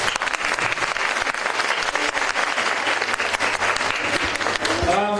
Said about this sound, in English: you deserve a big round of applause for yourselves